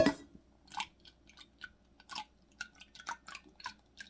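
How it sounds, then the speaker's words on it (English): Liquid trickles and drips into a jar while apple cider vinegar is being made, heard as soft irregular splashes and plinks that come close together, with nobody speaking. "pour the contents of this into that without spilling"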